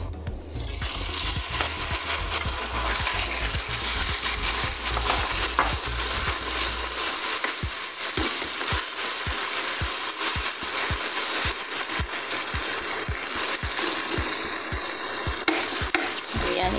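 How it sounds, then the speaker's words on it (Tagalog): Beef sizzling in a hot pan for pepper steak, a constant loud crackling fry broken by a series of sharp scraping and clinking stirs of utensil against pan. "Ayan, ipan-fry lang natin."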